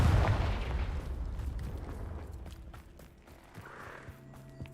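A Confringo fire spell blasts in Hogwarts Legacy near a Thestral nest: a loud booming explosion at the start that rumbles and fades over several seconds, with faint game ambience after.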